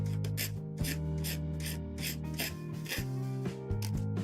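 Rhythmic rasping strokes of a file smoothing a plastic part from a Bandai 1/144 High Grade Gundam kit, close and repeated in quick bursts over a steady low hum.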